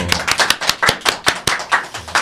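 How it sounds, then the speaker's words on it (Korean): A studio audience claps to welcome former prime minister Lee Nak-yon onto a talk show, about ten crisp, evenly spaced claps in a steady rhythm, close and fairly loud, with no talking. "큰 박수로 환영해 주십시오"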